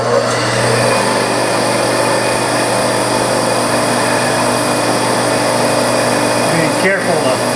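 A drill press runs steadily while center drilling a crank pin hole for a model spool valve engine part. Its motor gives a continuous, fairly loud hum and whine throughout, with a brief dip near the end.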